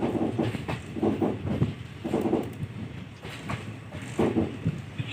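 An express train running from Hubballi to Secunderabad rumbles along the rails in general class, with rhythmic clickety-clack bursts from the wheels over joints heard from inside the carriage, no talk.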